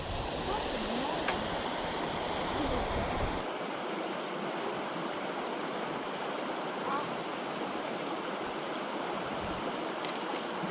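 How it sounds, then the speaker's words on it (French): A river on Réunion island rushing steadily nearby, a dense continuous wash of flowing water that stays loud and even throughout, with a faint voice briefly audible. "Elle est jolie la rivière ici, hein."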